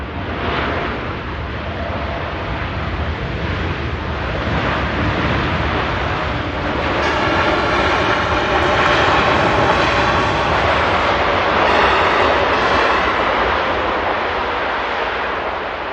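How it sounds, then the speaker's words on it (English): Saudi airliner landing on runway 23 right at Manchester Airport, a steady, loud broadband jet roar with rumble and hiss that swells slightly midway and is heard without talk throughout. "Saudi are just landing here on runway 23 right"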